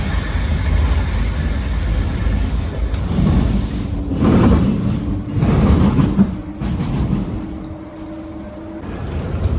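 Loud, continuous rumble inside a moving tram in Belgium, with rattling wheels, faint squeals and a low hum that swells and fades.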